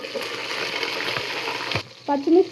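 Whole spices, bay leaves and green chilies fry in hot oil, a close, loud, even sizzle that cuts off abruptly near the end, followed by a short clatter.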